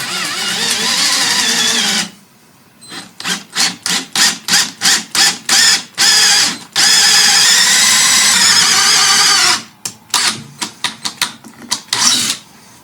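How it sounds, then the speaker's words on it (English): A plug cutter in a drill bores out a wooden plug holding a screw from an Edwardian coat rack, loud whining runs broken by a series of rapid short bursts, then another long run and more quick pulses. "I've got my smallest plug cutter, and I'm basically cutting out a plug of wood that contains the screw"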